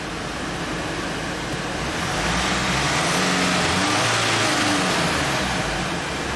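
A Mercedes/Dodge Sprinter van idles nearby with its engine running, a dense broadband rumble and hiss that swells a little louder midway and stays steady, with no one talking.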